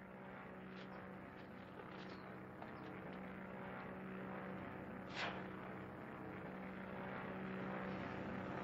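A low, continuous engine drone of an aircraft passing, steady and fairly distant, with a brief whooshing swell midway.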